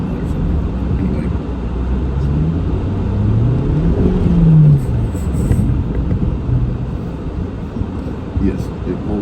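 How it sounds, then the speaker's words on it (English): An Acura RDX revs hard while spinning all four tires on snow, its engine note sweeping up and down over a continuous rumble, with a voice speaking over it. "I'm really amazed how this thing will burn off all 4 tires"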